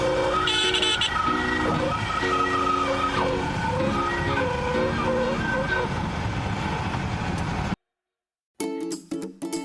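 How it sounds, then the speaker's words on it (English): A small aircraft's stall warning horn sounds during the landing descent, a steady tonal wail over engine and cockpit noise with some talk, before the sound cuts out abruptly near the end. "you'll hear the stall warning"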